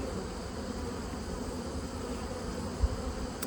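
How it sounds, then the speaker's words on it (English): Honeybees from a beekeeper's colonies buzzing in a steady, faint drone with no other sound over it. "I have this bee on my finger."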